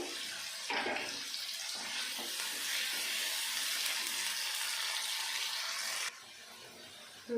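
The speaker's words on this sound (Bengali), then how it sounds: "আলুগুলো লাল লাল করে ভেজে নেব" Potatoes frying in oil for a Bengali jhinge alu posto dish, giving a steady, fairly close broadband hiss and sizzle that continues without pause and drops off abruptly near the end.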